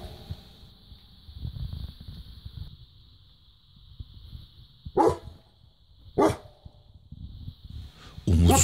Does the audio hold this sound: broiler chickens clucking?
no